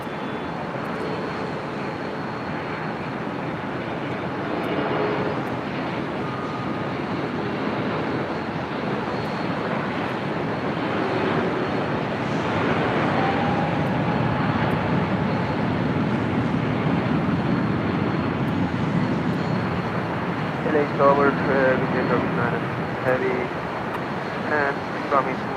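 A Delta airliner rolling for takeoff on runway 24 left at LAX, a broad steady engine roar building over about twenty-five seconds with distant traffic hum beneath and faint radio voices.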